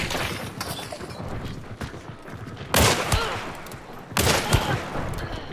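Gunshots in Hunt: Showdown, a sustained burst of rattling fire followed by two sharp, loud blasts at close range, with no talk over them.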